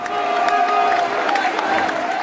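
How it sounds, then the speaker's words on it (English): Crowd noise from onlookers as Margaret Thatcher's coffin passes at her funeral, steady cheering and applause with scattered shouts and jeers woven through, continuous and fairly loud throughout. "as the coffin passed here, jeering, all but drowned out by cheering"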